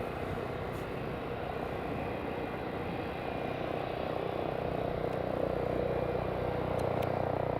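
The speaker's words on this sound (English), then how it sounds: "These helicopters just about to come in" A helicopter's steady whirring rumble fills the air and slowly grows louder as it draws nearer.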